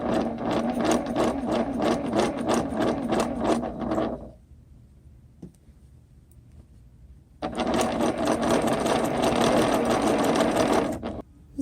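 A sewing machine stitching interlocking fabric seams runs in two bursts of rapid, rhythmic needle clatter, close and clear, with a quiet pause between them.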